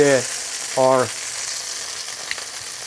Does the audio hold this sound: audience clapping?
no